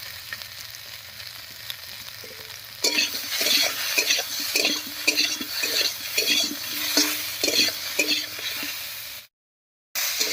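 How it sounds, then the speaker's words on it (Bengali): Taro pieces sizzle loudly in the oil left from frying fish, seasoned with a little salt and turmeric, after a quieter start, with frequent stirring scrapes and clinks of a utensil against the pan. "এবারে মাছ ভাজার এই তেলের মধ্যে হালকা করে ভেজে নেব"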